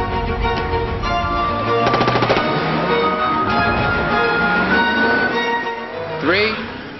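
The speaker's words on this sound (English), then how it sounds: "Three, two, one, bang!" Machine gun fire in a film action scene from BMW: The Hire, delivered as loud, sustained rapid bursts under a dense cinematic mix, ending in a sharp swoosh, with voices mixed in.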